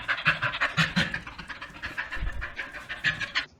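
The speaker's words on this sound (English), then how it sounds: "So these are playful grunts." A dog makes playful grunts in a steady run of rhythmic, breathy huffing pulses, close and fairly loud, continuing for a few seconds before stopping abruptly.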